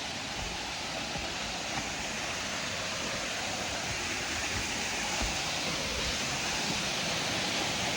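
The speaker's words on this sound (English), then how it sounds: "I think that third pool, the water falling hard" A waterfall on a hiking trail plunges hard into a pool, a steady broadband roar of rushing water that holds constant throughout, close and loud with no voices.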